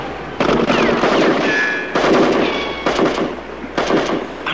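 Loud, rapid bursts of gunfire crack again and again, with short pauses between volleys. The shots echo and overlap, and no one speaks.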